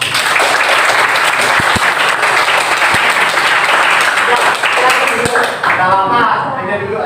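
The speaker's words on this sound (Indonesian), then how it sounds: "tepuk tangan" A classroom full of students bursts into applause, a dense, continuous round of clapping that runs for several seconds before thinning out and trailing off as a voice begins to speak.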